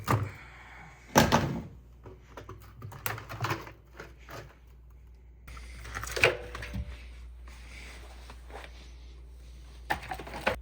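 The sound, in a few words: rubber door seal being pulled off a GE washer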